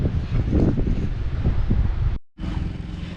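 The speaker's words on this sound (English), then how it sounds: "It is so windy." Strong wind buffets the microphone in loud, rumbling gusts, broken by a brief moment of silence before the blustering resumes.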